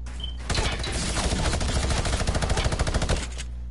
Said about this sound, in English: Dude, he has a minigun.